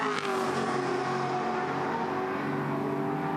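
Touring car racing engine at Bathurst, a sustained loud mechanical drone holding a steady pitch for a few seconds with no voices.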